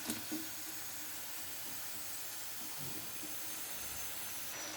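Onion pakoda frying in hot oil, a steady faint hiss of bubbling oil with a few soft clinks, no voices.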